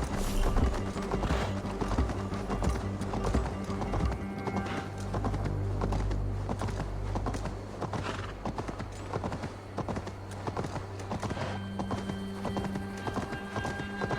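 A horse gallops in the video game Assassin's Creed Valhalla with rapid, rhythmic hoofbeats that continue throughout, with a brief whinny and a low rumbling background.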